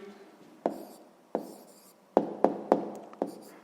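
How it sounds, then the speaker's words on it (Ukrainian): Pen or chalk strokes set down by hand while writing out the answer to a sixth-grade maths equation exercise, heard as six short, sharp taps and scratches at irregular intervals, close and fairly quiet, with no talking. "Ну що ж, записуємо тоді відповідь."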